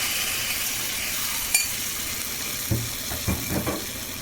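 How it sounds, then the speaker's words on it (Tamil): Mashed lentils pour into a hot tempering pan for Kerala chicken thoran, setting off a steady close sizzle with a few soft splashes and stirring scrapes near the end, no talking. "இப்போ அந்த பருப்பை அப்படியே அந்த தாளிப்பில் ஊற்றிடுறோம்"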